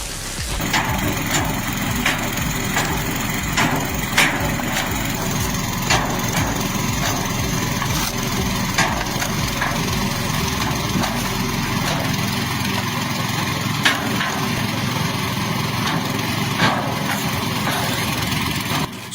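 An engine-powered wood-splitting machine runs with a steady loud motor drone, marked by repeated sharp cracks and snaps of wood splitting at irregular intervals.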